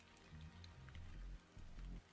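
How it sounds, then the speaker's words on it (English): Steady rain pours across a video game scene in Stellar Blade, a dense hiss of drops striking surfaces with a low rumbling undertone, continuous and fairly close throughout. "This must be Earth's rain."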